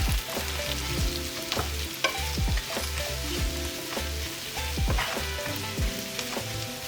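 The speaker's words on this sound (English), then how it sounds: "now you're gonna add your Maultaschen back in. Give it a stir." Maultaschen dumplings sizzle steadily in a hot pan, with a utensil scraping and clacking against the pan in a rhythmic series of stirring strokes, close and fairly quiet.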